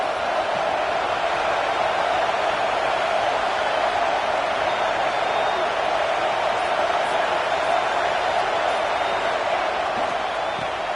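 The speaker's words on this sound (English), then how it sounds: "wow, listen to this crowd noise. This stadium is vibrating." A roaring stadium crowd in College Football 26 fills a North Carolina at Nebraska playoff game, a dense, steady wall of cheering noise held loud and unbroken throughout.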